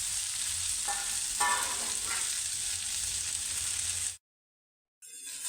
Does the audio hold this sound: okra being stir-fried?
yes